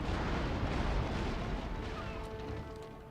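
The warship Santissima Trinidad fires cannon broadsides in the video game Napoleon Total War, a heavy booming roar of gunfire that rolls and gradually fades, fairly quiet and distant-sounding.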